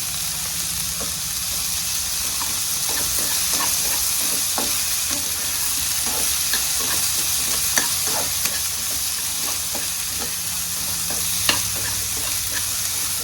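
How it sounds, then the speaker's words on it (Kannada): Pounded green chillies hit frying onions in a hot pan for a sprouted-bean curry, giving a continuous hiss of sizzling oil with repeated scraping clicks of a stirring spoon throughout. "ಈರುಳ್ಳಿ ಸ್ವಲ್ಪ ಫ್ರೈ ಆಗಿದೆ. ಇವಾಗ ಹಸಿಮೆಣ್ಸಿಕಾಯಿ ಕುಟ್ಟಿರೋದನ್ನು ಹಾಕ್ಕೊತೀನಿ."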